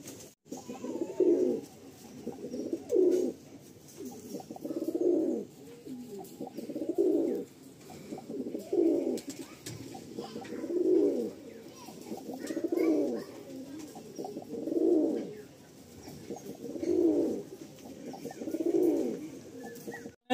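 Teddy pigeons coo in a slow, steady rhythm of about ten evenly spaced, low throaty calls, close and moderately quiet against a hushed background.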